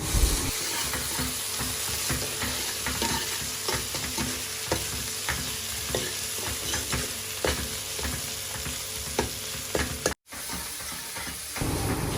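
Chopped tomato with spices frying in oil for Garhwali chicken, a steady close sizzle with frequent spoon scrapes and stirs, continuous throughout with one brief dropout near the end.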